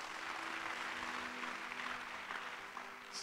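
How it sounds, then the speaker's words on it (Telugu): A church congregation claps during a sermon by Pastor Praveen, producing steady, even applause that sounds somewhat distant and faint. The clapping carries on for the whole few seconds with no voices over it. "చప్పట్లు కొట్టాలంతా"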